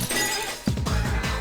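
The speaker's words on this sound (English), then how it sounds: "Glass shattering, I would assume." In the video game Persona 3 Portable, one loud crash of shattering glass bursts out partway through, over a steady bed of game music and ambience that carries on afterward.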